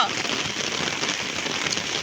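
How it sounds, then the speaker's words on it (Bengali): Steady rain patters across a hard surface, a dense, even hiss with a voice talking faintly underneath. "এই বছর এত বৃষ্টি হইতেছে বৃষ্টি আর শেষই হয় না"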